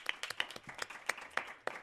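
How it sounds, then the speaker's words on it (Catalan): Audience applause at a live podcast recording on a small stage, a modest group clapping briskly with individual claps audible, fairly close and without talk. "Així que un aplaudiment per a d'elles"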